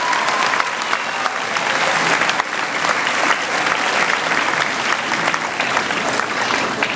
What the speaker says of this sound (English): So everyone give yourself a nice round of applause